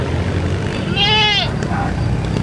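A single goat lets out a clear, wavering bleat at a livestock market in Padre Garcia, Batangas, rising out of a steady hum of crowd noise and background chatter.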